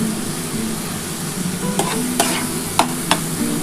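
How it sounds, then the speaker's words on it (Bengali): Radish paturi is stirred in a frying pan: a steady oily sizzle with several distinct scrapes and clacks of the spatula against the metal, up close and fairly loud. "খুব ভালো করে কিন্তু এটা নাড়াচাড়া করতে হবে।"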